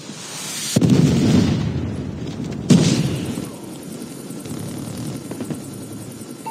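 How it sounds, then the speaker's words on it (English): Stealth helicopter in Call of Duty: Mobile, a deep rotor roar that hits with two booming bursts, then lingers as a rumbling drone. "Be advised, hostile stealth chopper inbound."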